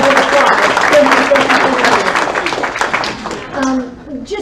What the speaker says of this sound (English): Join me in giving Lenny another round of applause.